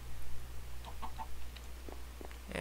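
A chicken in a video game clucks a few short, soft notes over a constant low electronic hum, with a brighter squawk at the very end.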